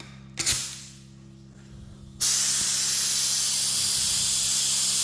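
After a short hiss and quiet pause, a Spectrum HTE spray gun sprays paint at about 20 psi with a loud, steady high-pitched hiss that continues unbroken to the end.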